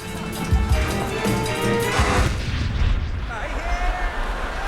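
A cannon blast in a comedy sketch: a loud, booming burst with crashing, explosive rumble that swells and decays over several seconds, with voices mixed in underneath.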